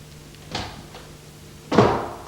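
A door bangs twice, a lighter thump followed about a second later by a louder, nearer slam, in an animated children's story.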